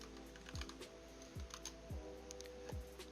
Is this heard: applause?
no